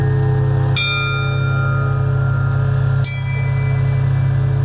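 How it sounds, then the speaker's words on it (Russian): Newly installed church bells in a belfry in Nyuvchim are struck twice a few seconds apart, each strike ringing loud and bright, then decaying into a long, humming resonance with no voices. "проверить звучание каждого колокола"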